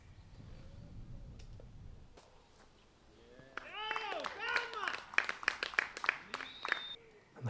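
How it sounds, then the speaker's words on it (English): Crowd applause and cheering at a disc golf tournament after a birdie putt on hole 16 at the Belgian Open, rising into a burst of clapping and whistles over commentary, fairly close and lively. "And the crowd loves it as Teemu parks himself for a birdie on 16"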